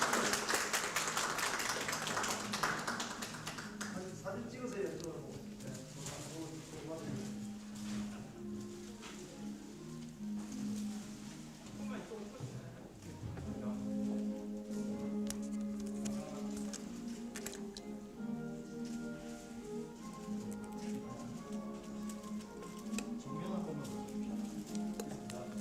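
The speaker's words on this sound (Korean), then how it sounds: "큰 박수 부탁드립니다." Audience applause at the 2020 third Health Care Technicians' Day award ceremony, a dense patter of many hands clapping in a large hall, with a speaker's voice and background music sounding over it.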